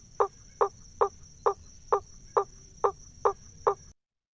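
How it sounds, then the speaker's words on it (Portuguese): A smith frog (Boana faber), also called the hammer frog, gives a series of nine evenly spaced, sharp knocking calls like hammer strikes on metal, clear and fairly close over a steady high insect hum. "Esse é o sapo ferreiro ou sapo martelo."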